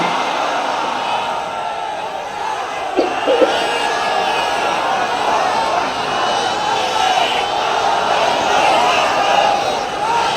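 At an outdoor Islamic sermon gathering, a large crowd chants a loud collective response, a roaring mass of voices that swells and holds for several seconds, with a brief shout rising partway through.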